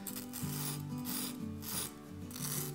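A carving tool is sharpened on a stone with steady back-and-forth rasping strokes, each scrape close and even, against a low background hum.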